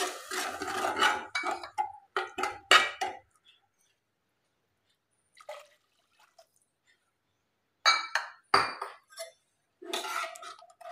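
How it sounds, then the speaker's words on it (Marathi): Two bowlfuls of water poured into a pan or pressure cooker of wheat for kheer, splashing bursts with clinks of a metal bowl, a quiet gap, then more pouring and clinks nearby. "आपण या ठिकाणी 2 वाट्या पाणी टाकलेलं आहे।"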